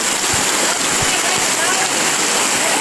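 Heavy rain pours down with plenty of rushing, flowing water, a loud, steady broadband roar throughout, with a few dull low thumps near the start.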